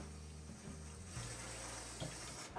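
Water runs steadily from a tap, filling a sink as a continuous broadband splash and hiss, fairly quiet and with no voices.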